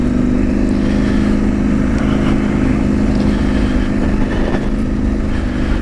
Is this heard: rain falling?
no